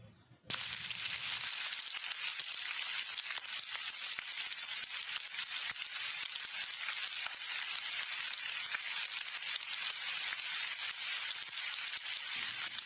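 Whole spices (cumin, cinnamon, cloves and black pepper) drop into hot oil with a sudden burst, then crackle and sizzle loudly and steadily for about twelve seconds, with no talking over it.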